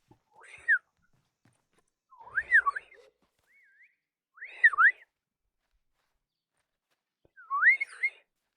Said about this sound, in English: I'm quite a weak whistler. I can't whistle breathing outwards. I have to whistle breathing in.